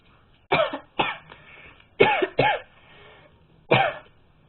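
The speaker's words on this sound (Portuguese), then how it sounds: "a tosse dela" Five harsh, close coughs in an uneven rhythm, two in quick succession, with quiet pauses between.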